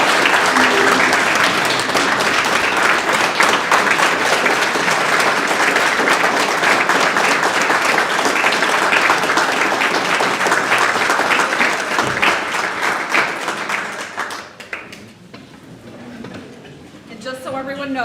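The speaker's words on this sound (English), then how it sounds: "let's officially give him a round of applause" Sustained applause from a crowd at an association's annual meeting fills most of the stretch, steady and full, then fades away near the end as a voice begins.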